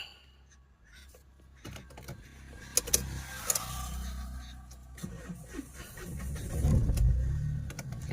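A Mahindra Bolero with a damaged fuel pump cranks and catches, a low engine rumble rising close by after a few clicks and knocks, then settling into a heavier idle.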